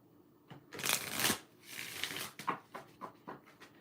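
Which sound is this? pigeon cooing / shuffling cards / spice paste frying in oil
shuffling cards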